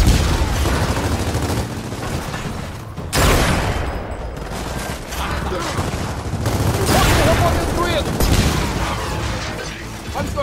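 Frag grenade blasts and rapid gunfire in Gears of War 4, a dense, loud, continuous battle barrage with booming bursts around the middle and mechanical clatter throughout.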